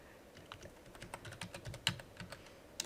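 Quick, uneven keystrokes clatter on a computer keyboard, close and fairly soft, with a couple of sharper clicks near the end and no voices.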